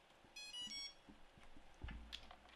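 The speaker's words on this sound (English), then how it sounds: "Beep." A drone ESC beeps after its battery is plugged back in on a Tyro79 build, a short run of quick electronic tones early on, followed by faint clicks and handling knocks.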